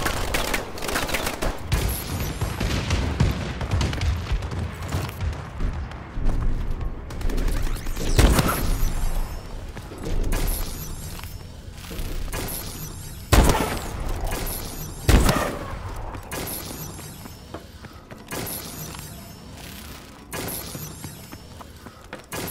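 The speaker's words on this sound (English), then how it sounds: "Friendly bombing run incoming." A friendly bombing run in Call of Duty: Advanced Warfare brings a long, dense barrage of explosions and gunfire, with sharp cracks and booms over a constant loud rumble of battle.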